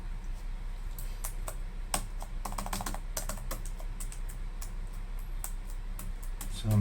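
A computer keyboard being tapped during cleaning gives irregular, crisp key clicks at close range, scattered in uneven bursts over a steady low hum.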